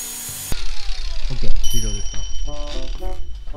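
A power tool shaves the bark off a wooden counter board during an old Japanese house renovation, a steady whining hum with clattering bursts, close, while people talk over it.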